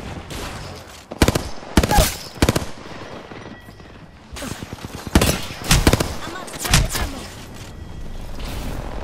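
Burst-fire weapon shooting in Apex Legends, a hemlock-like gun firing in quick, loud, clustered bursts separated by brief pauses, up close.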